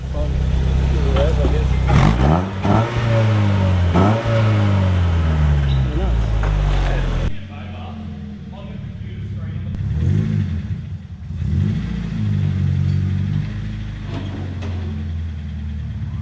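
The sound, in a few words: Nissan car engine revving on a dyno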